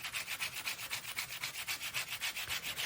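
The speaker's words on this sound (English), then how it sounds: "now we are going to start sanding" Rhythmic back-and-forth sanding strokes rub across an embossed metal sheet, roughly five or six passes per second, steady and close with no voices.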